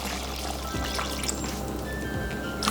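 Coconut water poured into a stew pot for Vietnamese beef stew (bo kho): a steady liquid pour with light splashing and trickling, close and moderate in level, with no talking.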